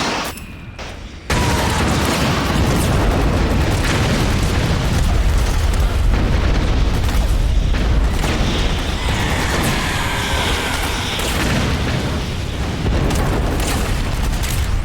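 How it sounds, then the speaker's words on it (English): Dense, continuous battlefield din from Metal Gear Solid 4, with heavy explosions and bursts of gunfire piling up loudly without pause after a brief quieter opening. "it truly makes you feel like you're in an active battlefield, with soldiers yelling out commands, explosions overhead"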